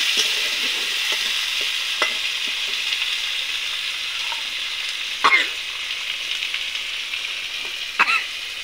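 Potatoes sautéing in spiced masala for a bhetki fish curry at an outdoor picnic, a continuous bright sizzle with occasional scraping stirs of a spatula against the pan.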